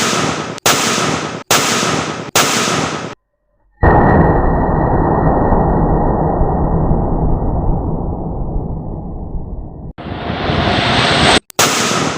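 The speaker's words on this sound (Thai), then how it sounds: "ระเบิดแรงมากครับท่านผู้ชม" Five ball firecrackers packed in a pipe crack in a series of loud, sharp blasts one after another, followed by a long roaring hiss and more abrupt bangs near the end.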